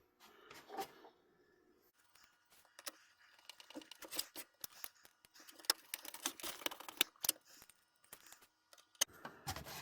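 A small hex-head driver turns a screw into a bracket on a Dalek model build, giving a run of close, irregular clicks and ticks with brief pauses, some sharper taps toward the end.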